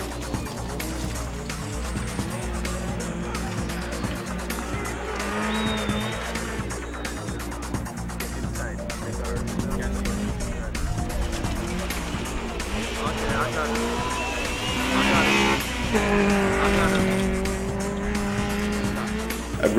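A two-wheel drive Mitsubishi Mirage RS rally car races hard with tires squealing and skidding, engine revving steadily throughout, while a commentator speaks over the sound.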